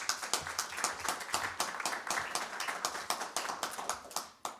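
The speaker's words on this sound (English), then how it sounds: "So a round of applause for CGS." A round of applause at a school board meeting: a small group clapping in a fairly even, brisk rhythm, moderately close and continuing throughout.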